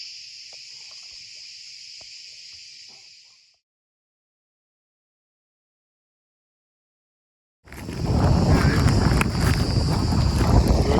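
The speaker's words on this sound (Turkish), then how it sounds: "acayip bir rüzgar çıktı" Loud wind buffets and roars across the microphone in the second half, while paddleboarding in a sweetgum forest, after an earlier stretch of high insect-like buzzing and a silent gap.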